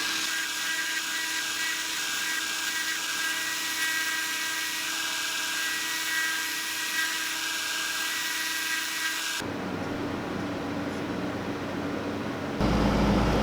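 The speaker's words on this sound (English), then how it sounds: "We're gonna make some spots for legs to exist using a steady hand and a Dremel" A Dremel rotary tool grinds steadily into a fishing lure to make leg holes, a continuous close high-pitched whine that shifts tone partway through.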